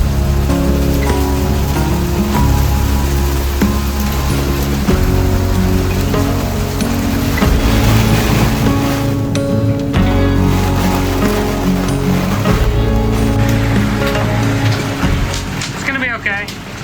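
Rain and sea noise on a sailboat in a 40 knot storm at sea, a loud steady roar of rain on the boat with wind and water rushing throughout, and a voice talking over it.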